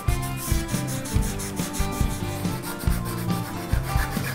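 Hand sanding of blue-painted wood with sandpaper, a close, loud rhythmic scratchy rubbing repeated in quick strokes, heard alone.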